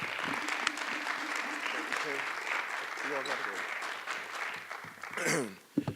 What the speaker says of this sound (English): I'd like for you guys to give a round of applause to Mr. John Scott